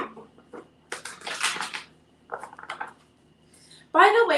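Tarot cards are shuffled and riffled in several short bursts separated by pauses, each a dry papery flutter close by, ending with a louder, denser riffle.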